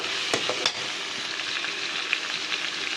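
Onions and other ingredients for a chicken heart and liver sambar sizzle steadily in a pan, with a couple of sharp scraping stirs near the start and continuous close frying hiss throughout.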